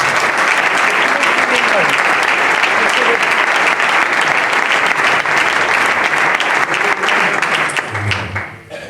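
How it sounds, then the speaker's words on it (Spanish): A church congregation applauds for Jesus during a workers' meeting, loud, dense clapping sustained for several seconds before tapering off near the end, with a voice emerging as it fades. "¿Podemos darle un aplauso para Jesús?"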